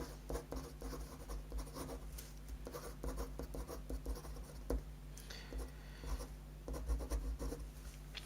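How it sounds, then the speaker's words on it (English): A marker writes a word on a board during a lecture, giving quiet, close scratchy strokes and taps in short irregular bursts with no speech. "Let me write that word again"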